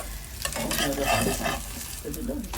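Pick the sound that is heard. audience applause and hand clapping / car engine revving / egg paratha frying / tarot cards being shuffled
egg paratha frying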